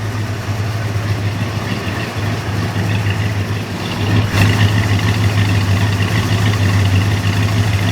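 A Dodge Dart's engine idles as it warms up, a steady low rumble close by that grows a little louder and rougher midway and then holds even, with no voices over it.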